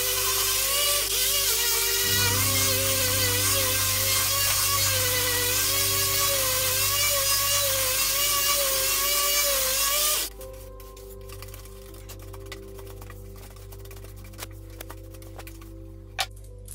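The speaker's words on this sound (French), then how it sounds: "Je ponce donc jusqu'à un grain de 240." A motorized sander sanding wood with 240-grit paper whirs steadily for about ten seconds, then cuts off, leaving quiet room noise with a few small clicks.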